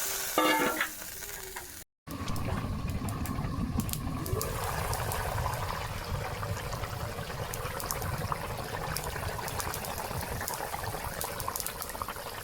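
Water poured into spice paste frying in a pan for a home-cooked curry, giving a loud, steady sizzle with stirring and bubbling that runs on after a brief cut, no voices.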